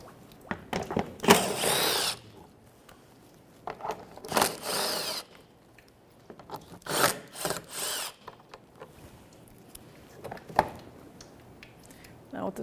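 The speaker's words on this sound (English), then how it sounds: "I'm going to go across and take all the bolts out." Bolts being removed with a 10mm socket from the front bumper shield of a Nissan Frontier, heard as several separate bursts of close, rasping power-tool whirring between quieter pauses, with occasional low talk.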